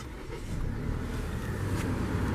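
A 2019 Volvo S60 T6 R-Design AWD idling just after start-up, a steady low engine hum with light mechanical whir, moderately close and without talk.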